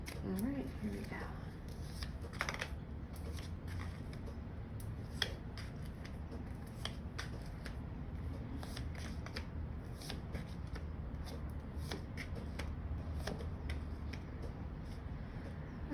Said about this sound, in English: one last little shuffle